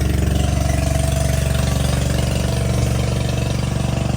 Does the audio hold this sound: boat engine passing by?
yes